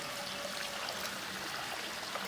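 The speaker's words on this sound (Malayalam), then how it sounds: "ഈ രീതിയിൽ വെള്ളം ഒഴിച്ചെടുത്തു കഴിഞ്ഞാൽ" Water is poured into a new aquaponics grow bed, giving a faint, steady trickling hiss that runs evenly throughout with no talk.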